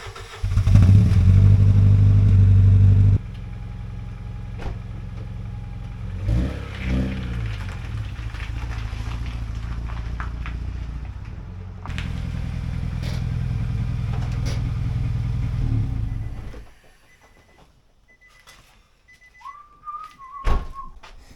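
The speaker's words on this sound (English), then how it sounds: "we're going to get the Versa in the carport" A Nissan Versa drives into a carport. The engine hums loud and steady at first, then drops and rises again in uneven waves before cutting off into near quiet, with a faint high whistle near the end.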